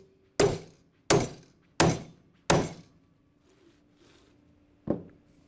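A hammer strikes a steel clamp bar while Flexco SR rivet hinged fastener plates are set on a conveyor belt: four sharp, ringing blows in quick succession, a pause, then a fifth, close and loud.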